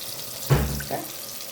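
Water is swirled in a vessel to rinse it and tipped into a village-style paarai fish curry, a short splashing pour followed by a softer trickle, close and alone.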